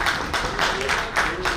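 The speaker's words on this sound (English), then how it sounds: "A huge round of applause for him" Audience at a national convention session claps for a guest, a brief burst of hand claps in uneven bunches, moderately close, with a voice faintly audible beneath.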